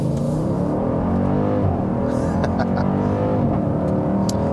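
A 2018 Dodge Durango SRT's engine revs loudly and continuously, its deep, rich drone rising and falling with throttle from close by, with no voices over it.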